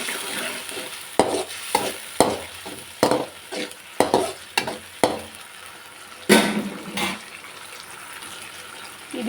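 Tomato paste is stirred into frying egg curry masala in a pan, with a spoon scraping in repeated short strokes over a soft sizzle, close and fairly quiet with no talking.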